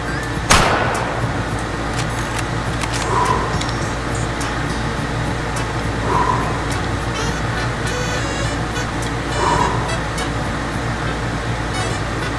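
A single sharp, loud sniper rifle shot cracks at the start of a video game firefight during a long-range shot of over a kilometre, followed by three evenly spaced short tonal blips over steady background rumble.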